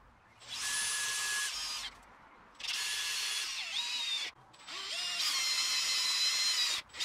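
A power drill bores holes in steel tubing for kiln hinge mounting brackets, three long steady whining runs separated by short pauses, close and loud with pitch dips as the bit bites.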